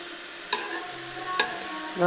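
Something is being sautéed and stirred in a pan, giving a soft, close sizzle. Sharp scrapes and clinks of the utensil land at intervals over it, with no one talking.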